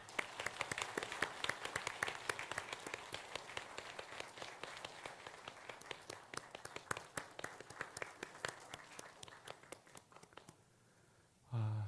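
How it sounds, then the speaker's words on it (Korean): A church congregation claps steadily during a Sunday service, many hands making dense, sharp claps that gradually thin out and stop near the end, followed by a brief low sound. "인사하실 때 여러분 큰 박수로 함께 위로해 주시기 바랍니다"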